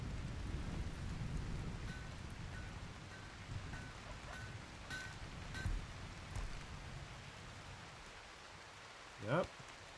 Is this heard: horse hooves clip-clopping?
no